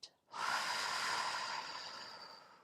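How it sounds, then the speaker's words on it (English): One long, deep exhale during a pelvic stability exercise for back and hip pain, preceded by a short breath, then a steady breathy rush of air that fades slowly. It is close and soft, with no talking over it. "Let's take a big deep breath in, a full exhale out."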